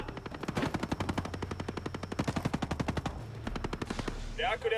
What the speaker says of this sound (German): Ich höre doch da noch Schüsse.